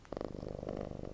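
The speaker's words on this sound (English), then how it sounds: "This cat purring. He has a loud purr." A house cat purrs loudly and close, a rapid rumbling vibration that swells in rhythmic breathing pulses for about a second.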